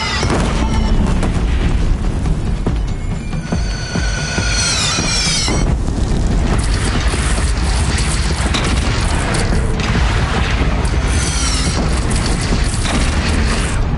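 Heavy booms and crashes in the game Horizon Zero Dawn as cannons fire in a loud battle, with dense rumbling, clanking mechanisms and sharp metallic sweeps layered throughout.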